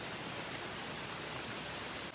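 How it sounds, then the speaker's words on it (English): A creek rushes over a rock edge into a waterfall, a dense, steady hiss of falling water heard close and continuous with no voices. "There's a creek right here. And it goes over the edge."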